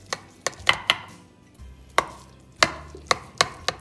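A knife slices through baked lasagne topped with kashkaval cheese, cutting it into square pieces, producing about ten sharp close knocks of the blade on the pan or board at an irregular pace, no talking.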